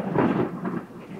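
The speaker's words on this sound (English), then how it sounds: "It's stormy." Thunder rolls overhead during a thunderstorm at Spanish Wells in the Bahamas, a loud, low rumble that swells early and then fades into a quieter grumble.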